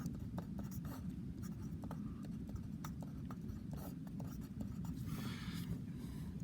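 Pen or marker writing out the quadratic formula by hand, a quiet close stream of short scratchy strokes and taps in an irregular rhythm over a low steady background hum.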